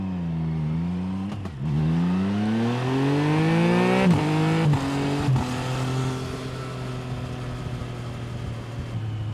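A 2024 Triumph Trident 660 motorcycle being ridden, engine rising through the gears with clear rev climbs and quick shifts, then settling to a steady drone, loud and close with wind rumble.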